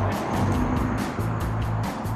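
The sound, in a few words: truck driving by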